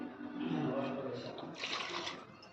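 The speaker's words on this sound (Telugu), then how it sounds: "కావాల్సినన్ని వాటర్ యాడ్ చేసుకుంటున్నాను" Water poured into a pot of mutton curry being cooked, a steady splashing pour that swells toward the end, with a person talking over it.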